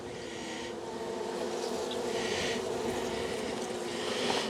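Honey bees buzz steadily around an open nuc hive during a June nuc transfer outdoors, a dense, continuous swarm drone close by that swells slightly toward the end, with no talking.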